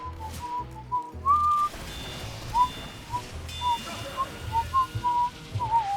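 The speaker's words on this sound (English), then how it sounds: "But what's that I'm whistling" A person whistles a tune in short, clear melodic phrases over a low rumbling background, moderately close and steady throughout.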